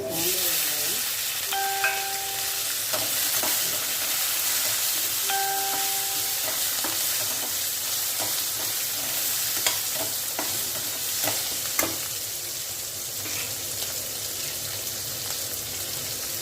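Garlic and onion sautéing in a pan for a garlic masala curry, a steady close sizzle with a few clinks of a stirring spoon, no voices.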